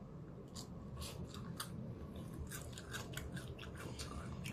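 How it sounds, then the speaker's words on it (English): Crisp, well-seasoned fries being bitten and chewed close up, a quick run of sharp, faint crunches over a low background hum, with no talking. "I don't know if you can hear that, the crunch."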